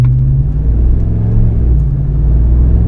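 Ram 1500 pickup from the 2009–2018 range fitted with a TotalFlow 415633 muffler, idling with a steady deep exhaust rumble throughout, near and constant with no speech.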